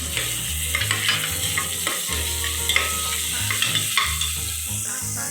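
Tomato tossed into frying onion and stirred in a pan, a continuous close sizzle broken by repeated scraping strokes of the spoon.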